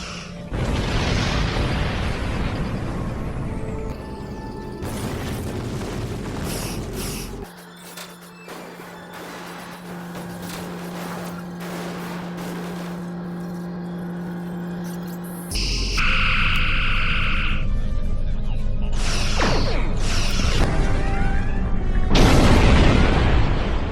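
Disruptor turret fire and explosions in a Star Trek space combat video game, bursts of booming blasts and crackling impacts separated by a quieter stretch with a steady hum, ending in loud rumbling detonations.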